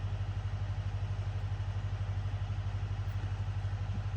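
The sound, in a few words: tractor engine running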